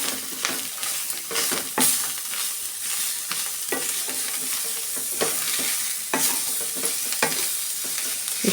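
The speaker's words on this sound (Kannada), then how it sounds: "ಇಷ್ಟು ಫ್ರೈ ಮಾಡಿಕೊಂಡ್ರೆ ಸಾಕು." Cooked dal frying and being stirred for obbattu saaru, a spoon scraping the pan in steady repeated strokes over a constant sizzle, close and clear with no speech.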